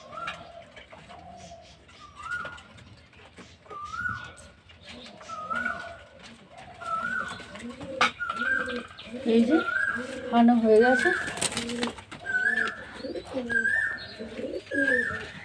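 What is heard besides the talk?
pigeons cooing while being given water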